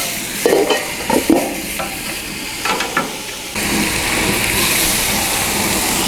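A chicken sandwich sizzles on a Blackstone griddle with a few clacks from a spatula. A lid then goes over it and a steady hissing sizzle follows, close and continuous.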